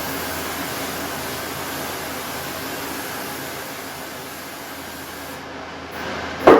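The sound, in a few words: cooking spray on pan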